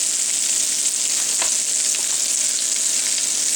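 Flour sizzles in a hot pan with a steady, close, hissing fry and a brief scrape of stirring, no talk over it.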